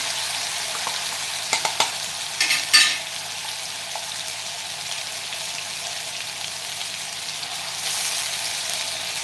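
Finely ground paste of one large onion frying over a low gas flame for a cauliflower-potato curry: a steady, moderate sizzle with a few sharp clatters of a spoon early on, no voices.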